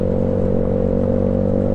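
A Honda BeAT motor scooter with a 130cc bored-up engine hums steadily and loudly up close, holding a constant droning pitch with a faint rattle, no speech.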